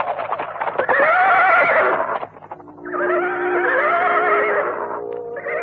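Horses neigh loudly and close in an audio drama scene where a dozen riders surround someone, two long overlapping whinnies over a low rumble of hooves and movement.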